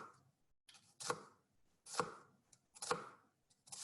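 A knife chopping through an onion on a board, three or four distinct crisp cuts spaced about a second apart, close and quiet with no talk.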